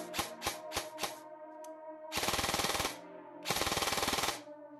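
Specna Arms SA-X02 EDGE 2.0 airsoft gun firing: a few single mechanical clicks, then two short full-auto bursts of rapid buzzing rattle, close and clear with no talk.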